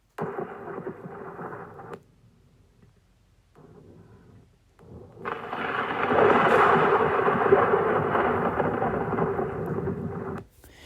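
A fierce night thunderstorm: heavy rumbling thunder and steady rain build up loud and close after a brief quieter lull, then the sound cuts off abruptly near the end.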